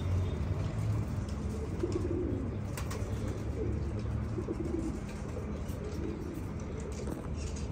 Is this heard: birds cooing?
yes